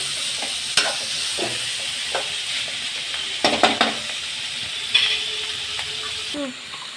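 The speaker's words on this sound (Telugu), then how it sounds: "మొత్తం క్యాలీఫ్లవర్కి అంతా పట్టేలాగా కలిపేసుకోవాలి" Cauliflower masala curry being stirred in a pan, with continuous sizzling and frying under a few sharp scrapes and clinks of the spoon against the metal, close and fairly loud, no talking.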